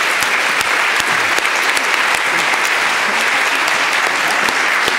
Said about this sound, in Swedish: vi ska ge dem en stor varm applåd för att ni kom hit denna fredag eftermiddag